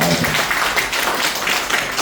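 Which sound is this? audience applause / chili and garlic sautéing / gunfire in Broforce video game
audience applause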